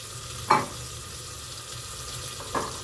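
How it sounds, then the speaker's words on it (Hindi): Peas tumble into a pan of frying tomatoes and potatoes, two sharp clattering drops over a steady close sizzle with light stirring. "अब मैं डाल दूँगी मटर।"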